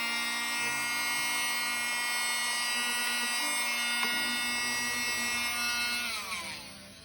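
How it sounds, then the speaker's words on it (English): Small handheld vacuum cleaner running steadily with a high electric whine, close and loud, as it picks pencil dust off paper, then winding down near the end. "pull out my handy little vacuum"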